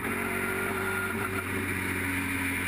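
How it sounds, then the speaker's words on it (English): On-board sound from a V8 touring car in round 2 of the 2012 Kumho V8 Touring Car Series, after its engine fails coming out of turn 2: a constant, loud, buzzing engine and wind roar with no talk. "just looks like the engine's let go coming out of turn 2"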